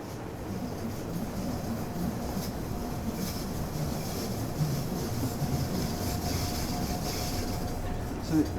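A train on the Bernina Line, Tirano to Poschiavo, in Train Simulator 2020, gives a steady, continuous rumble of running gear throughout with no clear breaks.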